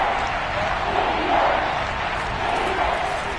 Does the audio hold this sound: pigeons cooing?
no